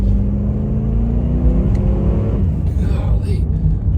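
A 1992 Cadillac Sedan Deville engine revs up with a steady low rumble and rising whine, loud and close, running throughout.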